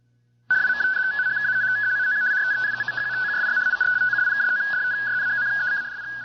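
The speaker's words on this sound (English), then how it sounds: "That's the sound of radio teletype," Steady two-tone warbling radio teletype (RTTY) data signal heard on shortwave over a hiss of radio static, alternating rapidly between close pitches, continuous and fairly loud throughout.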